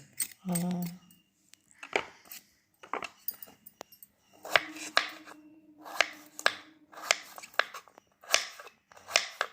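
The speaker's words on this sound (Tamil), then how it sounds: "நம்ம எல்லாத்தையும் நறுக்கியாச்சுங்க" A knife taps and chops raw papaya on a board in irregular bursts, becoming a steady rhythmic chopping, with a short animal-like whine near the start.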